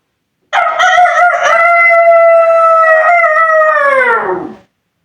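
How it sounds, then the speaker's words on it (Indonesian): A single loud rooster crow, long and drawn out, rising then trailing off at the end, with no other sounds around it. "Terdengar suara ayam jantan berkokok."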